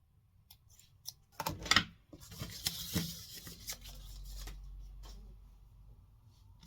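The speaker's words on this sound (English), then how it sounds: "Fabric scissors." Fabric scissors cutting a small piece of lace for a junk journal tag: a few sharp close snips and crisp clicks with rustling handling between, quiet overall.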